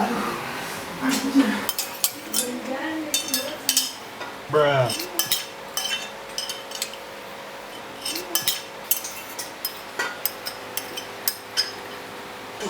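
Plates and cutlery clink and clatter in scattered sharp bursts, close by, while a voice speaks briefly amid the kitchen clatter.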